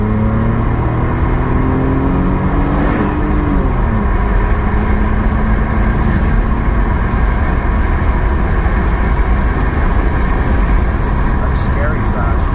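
A 1999 Mercedes-Benz CLK320 engine with a fault that makes it cut out at 4,800 RPM, revving up loudly with rising pitch, then holding a dense, steady drone throughout.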